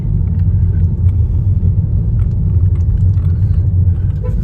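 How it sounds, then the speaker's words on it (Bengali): Steady low engine rumble of a car rolling along a narrow village road near Talsari, Odisha, continuous and fairly loud, with faint rattles over the top and no voices. "এসে গেছে গাড়ি বলতে বলতে"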